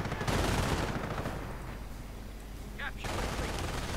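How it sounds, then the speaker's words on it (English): Machine gun fire crackles in a World War II strategy video game, with bursts of rapid shots and battle noise running underneath a commentator's continuous talk. "blazing away with MGs, sniper opening"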